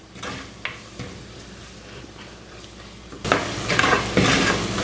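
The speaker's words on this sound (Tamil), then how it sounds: "கிளறியே வதங்க விடுவோம்." Ground spice paste sautéing in a pan while being stirred, a steady soft sizzle with scraping and clinks of a utensil against the pan, growing louder and brighter for the last second and a half.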